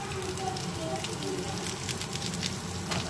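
Onion and chili frying lightly in a pan for Maggi noodles, a steady dense sizzle and crackle running throughout at close range, with faint background voices.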